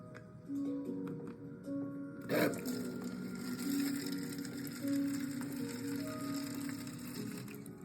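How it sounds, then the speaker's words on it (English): A homemade mixing device with a linear actuator lowering a whisk makes a faint whirring motor hum with light mechanical clicks and a sharp clatter partway, close and low in level. "the linear actuator lowers the whisk to mix it"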